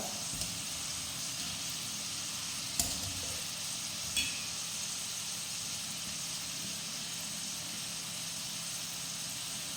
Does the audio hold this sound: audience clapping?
no